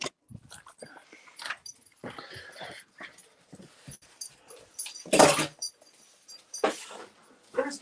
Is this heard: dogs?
yes